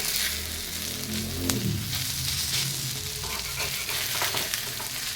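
Fish frying in a pan with little oil, coated for crispness, crackling in a steady dense sizzle with a brief clatter as pieces are moved, close and continuous.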